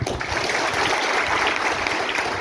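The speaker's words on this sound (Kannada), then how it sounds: "ಇನ್ನೊಂದು ಜೋರ ಚಪ್ಪಾಳೆ ಕೊಡಿ" Audience applause at a scholarship event for community students in Kalaburagi, a dense, steady clapping that fills the whole stretch without a break.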